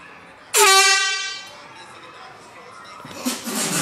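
A loud air horn blast goes off suddenly up close as a wake-up prank, holding for about a second before fading into commotion and shuffling noise.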